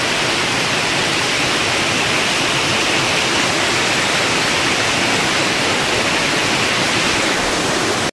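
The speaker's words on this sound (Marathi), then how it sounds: "बघू शकतात कसं पाणी चालू आहे वरती." Waterfalls run in the monsoon at Malang Gad, a misty hill fort, making a dense, steady roar of rushing water that stays loud and unbroken throughout, with no voices.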